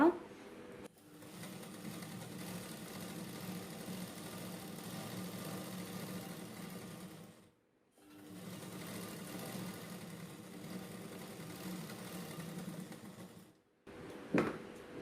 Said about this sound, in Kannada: ಇವಾಗ ಇದು ಫ್ರಂಟಲ್ಲಿ ಸ್ಟಿಚ್ ಮಾಡಿದ್ದೀವಲ್ಲ